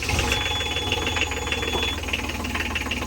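A small inboard boat engine idling at a marina, a steady close mechanical knocking rumble with a constant rhythmic chug throughout.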